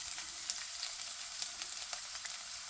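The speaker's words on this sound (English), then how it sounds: "So add 2 tablespoons of oil to fry the onions." Onions sizzling in about two tablespoons of hot oil for a Sri Lankan pumpkin curry, a steady close hiss with small crackles and pops, with no talking.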